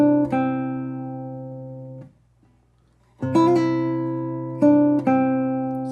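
A classical guitar plays a trill that starts on the written note. Bright plucked notes alternate rapidly and ring out, then a pause follows before the figure repeats, close and clear with no talk.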